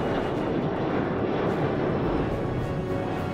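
A fixed-wing airliner roars steadily down the runway on its takeoff run, a loud broadband engine rush that holds constant throughout with no voices.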